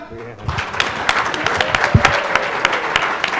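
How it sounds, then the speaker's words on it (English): Audience at a general election conference applauding expert witnesses, loud, dense clapping that builds after a brief quieter opening and continues strongly, with a voice briefly audible early on. "Can I have your generous applause for our expert witnesses here?"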